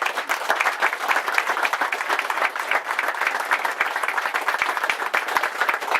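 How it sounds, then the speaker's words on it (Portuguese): Guests at a Santos Reis celebration lunch in a family home give dense, continuous applause for the host of the house, lively clapping at a steady level from start to finish. "Uma salva de palmas para o dono da casa."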